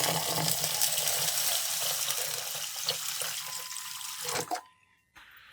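Water runs steadily from a tap into a bowl of lentils being washed, a continuous splashing rush that suddenly stops near the end.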